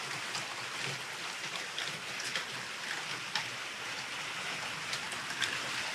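Rain pattering on a 3rd gen Toyota Tacoma truck camper, a steady soft hiss of drops with occasional sharper taps, fairly faint and unbroken.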